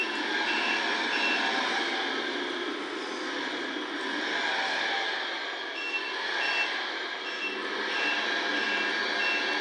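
An RC truck backs up with a steady electronic reversing beep repeating throughout, loud and continuous over a broad motor hum, during a timed forklift loading race.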